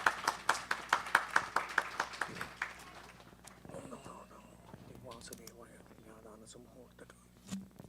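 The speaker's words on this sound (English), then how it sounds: "Let's give a big round of applause." Guests at a Hindu wedding ceremony clap after the Kanyadanam, a quick run of sharp, close claps lasting about three seconds before fading into quiet murmuring and soft talk.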